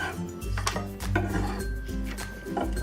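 A knife chops green onions into 2-inch sections on a board, each cut a distinct rhythmic knock, repeated several times at a steady close pace with a soft scraping rasp in between.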